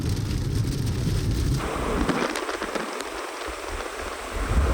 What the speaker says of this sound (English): while we very cautiously drive through this storm